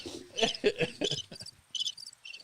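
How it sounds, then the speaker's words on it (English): Crickets chirp in a quiet comedic beat, a faint, sparse sequence of short high trills in irregular bursts with no other sound. "you got the crickets on that one"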